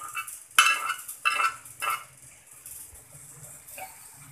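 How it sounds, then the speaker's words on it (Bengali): Fried okra is tipped from a pan into a serving bowl, giving a few soft scraping, clattering knocks of a utensil against cookware spread over a few seconds, fairly quiet with no talk. "এখন আমি পরিবেশন বাটিতে ঢেঁড়স ভাজিটা ঢেলে নিব।"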